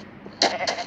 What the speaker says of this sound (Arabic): خروف العيد يمشي وراي تعال معاي